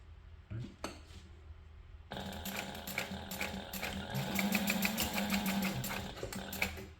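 Sewing machine basting the ends of webbing together for a crossbody and waist bag, a few separate clicks first, then a loud, steady rapid stitching rhythm running close up to the end.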